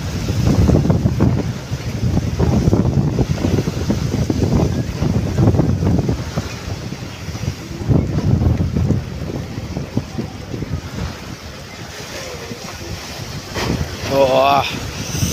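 Strong wind buffets the microphone over open water, with a steady rushing roar, a voice talking underneath and waves sloshing nearby.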